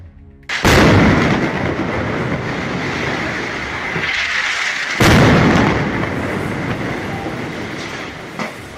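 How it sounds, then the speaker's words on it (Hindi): A loud explosion from an IED blast in Gaza combat footage hits sharply, followed by rumbling and a second heavy blast, with booming, crackling noise continuing throughout. "इस आईईडी में जोरदार ब्लास्ट कर दिया जाता है।"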